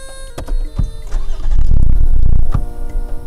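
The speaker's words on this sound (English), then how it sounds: "And I'll start the car, it will go off again." A car engine cranks with several sharp clicks, roars briefly into a loud rumble, then dies and falls quiet before another click.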